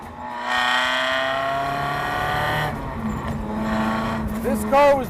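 Home-built Lexus V8-swapped, Cobra-blown 1975 Toyota Corolla climbing a winding road, a loud engine note droning and shifting pitch as it revs, with a brief sharp squeal-like burst near the end and a voice speaking over it.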